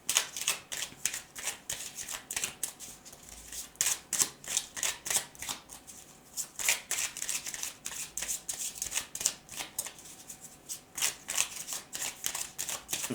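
Tarot cards shuffled over and over, a dense run of crisp riffling flutters and slaps in quick rhythmic bursts, close and clear with no talking.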